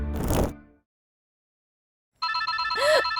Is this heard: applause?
no